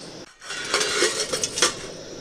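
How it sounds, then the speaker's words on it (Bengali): A wok (kadai) is set onto a stove burner before cooking a Bengali mixed-vegetable curry, giving a short run of close metallic clanks and scrapes over a soft background hiss, with no voices. "কড়াই বসিয়ে দিলাম।"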